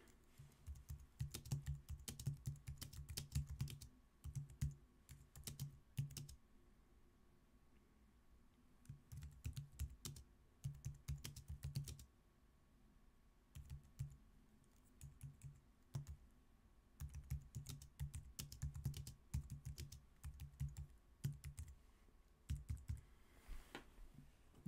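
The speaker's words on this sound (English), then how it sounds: "Now you can start typing." Bursts of close keyboard typing, quick clicking keystrokes in runs separated by short pauses, with no talking.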